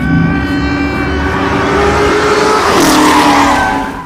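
A Ford GT40 race car engine revs loud and close, its tone climbing steadily then dropping sharply as it shifts and pulls again, continuous with no voices over it.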